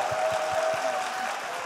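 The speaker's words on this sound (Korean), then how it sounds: "박수 한번 부탁드리겠습니다" A small group applauds to welcome a guest on a Korean streamed talk show, with brisk, evenly spaced claps over a thin hum for under two seconds.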